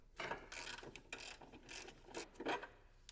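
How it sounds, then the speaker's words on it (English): A ratchet works bolts loose from the front of a Ford Explorer ST transmission mount, giving bursts of quick metallic clicking with short pauses between strokes, close and moderately loud. "remove the 2 bolts at the front of the mount"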